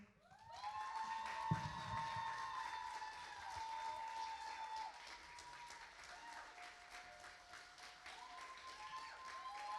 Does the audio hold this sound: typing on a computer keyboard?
no